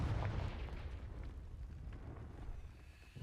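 A Confringo fire-blast spell goes off in Hogwarts Legacy on Nintendo Switch as a deep, rumbling boom that starts strong and decays into a low roar, with no speech.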